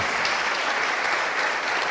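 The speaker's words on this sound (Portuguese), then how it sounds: "Vamos receber essas pessoas com a calorosa salva de palmas" A church congregation gives steady, warm applause to welcome people, the dense clapping close, even and unbroken without voices.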